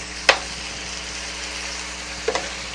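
Deer meat sizzles in an electric skillet, a soft continuous frying hiss with a sharp clink near the start and a couple of small knocks toward the end.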